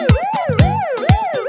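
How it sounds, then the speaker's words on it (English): Police car siren sound effect in a children's song, a loud wailing tone sweeping up and down in repeated cycles with sharp percussive hits at each rise, no talking. "Turn on the siren!"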